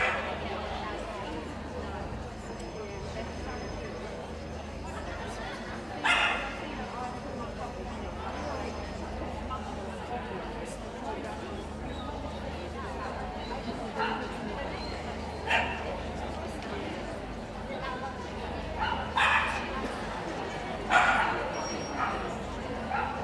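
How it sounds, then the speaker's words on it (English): Dogs at a championship dog show hound group, scattered short barks and yips rising over a steady crowd murmur in a large hall, while a voice talks through most of it. "On the table now, we have the wire-haired Dachshund, judged by Mrs. J. Ashwell Carter."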